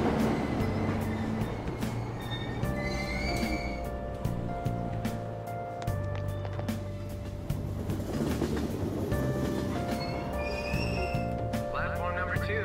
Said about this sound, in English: I thought I missed a train.